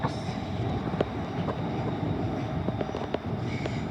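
Class 350 unit 350-116 passes on a North London line, a steady broadband rumble with faint wheel clicks and rail squeals spread across the whole pass, no voices.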